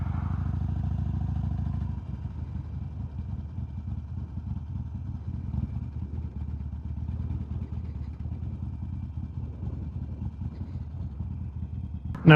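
Harley Sportster motorcycle rides along with a deep, steady engine rumble heard close from the saddle, pitch and throttle shifting slightly, then a sudden sharp burst at the very end.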